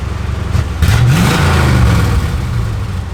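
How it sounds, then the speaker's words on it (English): A 1955 Chevrolet 210 engine revs up sharply from idle, rising in pitch into a loud roar before easing back to a throaty rumble, heard up close. "Give it a rev."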